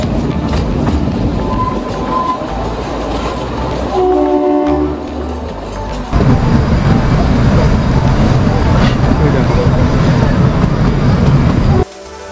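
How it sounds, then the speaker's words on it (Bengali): Kalka–Shimla toy train on the narrow-gauge hill line, loud and close rolling wheel noise with rattling carriages, a brief horn tone partway through, a louder rumble in the later part. "আমাদের ট্রেন আজ 22 কিলোমিটার পার ঘন্টা বেগে 96 কিলোমিটারের জার্নি অতিক্রম করবে।"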